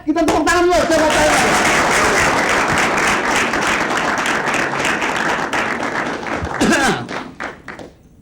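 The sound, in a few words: audience applause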